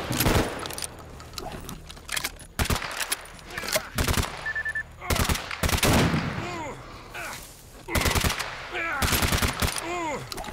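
In S.T.A.L.K.E.R. Anomaly G.A.M.M.A., loud bursts of automatic gunfire come in several separate volleys, sharp and close, with someone talking excitedly between the bursts.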